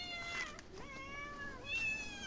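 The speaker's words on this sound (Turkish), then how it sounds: "Sen nereden çıktın kara kedi?" A black cat meows in a garden in Kemaliye, Erzincan, giving a few close, drawn-out cries with rising and falling pitch, clear and fairly loud over light background noise.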